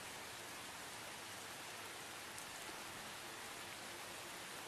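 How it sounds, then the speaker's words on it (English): Steady, dense hiss of prolonged rain falling on a town street, even and continuous without any break, soft and diffuse with no voices. "It's been raining quite longer than usual"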